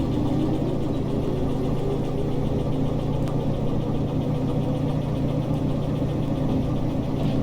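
A train locomotive powering up in the Derail Valley railway game gives a steady, loud, low engine drone that holds even throughout, with no voices over it.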